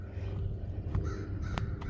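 Crows cawing along a wooded trail in Muskego Park, Waukesha County, a few short separate calls at middle distance over a steady low outdoor rumble.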